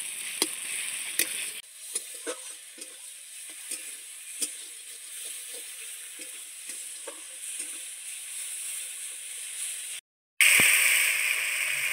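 Chopped tomatoes and salt go into a hot pan of fried onion and garlic and sizzle steadily, with scattered crackles and stirring clicks, then a brief gap before a louder burst of hissing.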